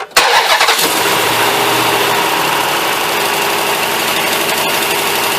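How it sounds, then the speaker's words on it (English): A 2007-2008 Chrysler Aspen engine cranks briefly and catches, then settles into a loud, steady idle with a busy mechanical whir close by, heard alone without talking. "I'm going to run the engine"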